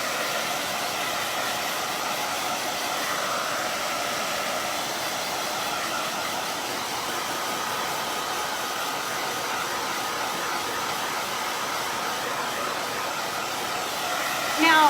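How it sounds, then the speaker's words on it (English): A blow dryer drying a freshly painted yard art piece, a football turkey, runs as a loud continuous airy whoosh for the whole stretch, steady and close, with no speech. "typically you don't need to worry about blow drying your piece"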